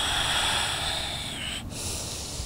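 One long, steady breath drawn through the nose and mouth during a deep hip-opening yoga pose, loud and close, with a brief pause before it continues.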